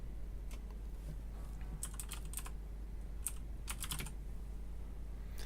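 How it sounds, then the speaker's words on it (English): A password being retyped on a computer keyboard: a few short bursts of quick clicking keystrokes over a low steady hum. "So let me just try retyping in my password."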